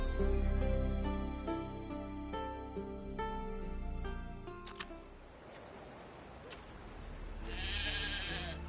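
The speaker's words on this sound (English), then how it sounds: "How do you call a sheep? Here, sheepy sheepy? Hey, sheep, come here." Sheep bleating in The Witcher 3 on PS4, a series of game sheep calls with a few sharp repeated bleats over steady background game ambience, then fading into softer environmental noise.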